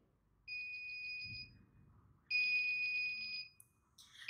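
A homemade safety box alarm sounds its buzzer in two steady electronic bursts, one about a second long and a second slightly longer one, with quiet background hum between them.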